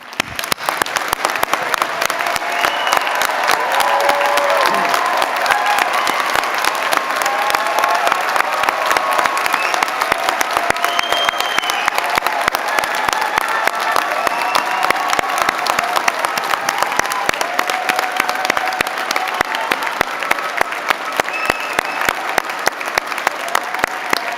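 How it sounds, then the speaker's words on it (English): A big crowd at a graduation ceremony gives the graduates a long, thunderous round of applause, dense continuous clapping that stays loud and even throughout, with faint cheering and whistles mixed in. "give a thunderous round of applause to celebrate the remarkable achievements of our graduates today one more time"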